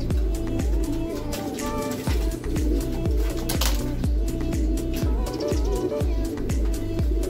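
Racing pigeons cooing in a loft, repeated soft low coos in a steady rhythm, close and continuous with a busy background of other birds.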